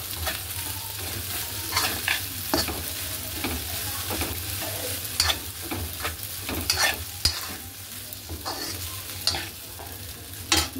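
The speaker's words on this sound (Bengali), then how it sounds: "এবার শুধু এটাকে মেশাবো, আর পাস্তা মশলাটা দিয়ে দিলেই হয়ে যাবে।" Pasta mixed with Maggi masala is stirred in a frying pan, a spoon scraping and clinking in irregular strokes over a steady low sizzle, close up with no speech.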